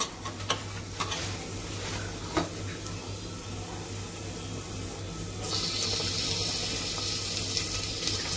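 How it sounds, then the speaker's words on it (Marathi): Tomato going into well-browned onion in a pan for chicken biryani, with a steady sizzle and stirring that grows brighter and louder near the end as the wet tomato hits the hot oil; no talking. "ह्याच्यात मी आता टोमॅटो टाकणार आहे।"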